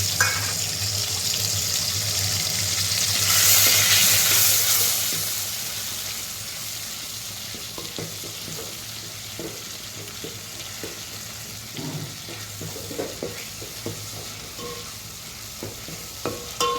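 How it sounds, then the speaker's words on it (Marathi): Ginger, garlic, coconut and garam masala paste roasts in a pan with a steady sizzle, an early surge of hissing followed by quieter frying and occasional stirring scrapes. "अद्रक, लसूण, खोबरं, गरम मसाला वाटून घेतलेला आपण ह्याच्यात भाजून घेऊ"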